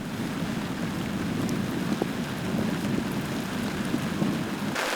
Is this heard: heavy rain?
yes